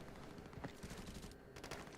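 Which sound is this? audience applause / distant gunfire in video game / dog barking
distant gunfire in video game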